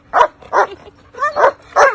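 Several sharp barks and yips from protection-trained dogs in quick succession, close and fairly loud, with short gaps between them.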